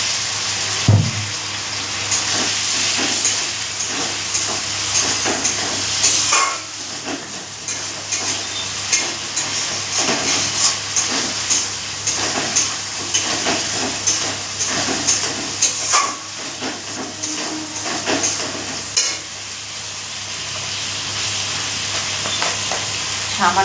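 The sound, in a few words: water added to frying spice masala for dhoka curry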